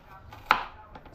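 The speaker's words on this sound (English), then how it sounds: "When you see me chopping the onions this way" A single sharp knife chop through onion on a board while cooking pasta, with a faint softer tap following, close and clear with no talking.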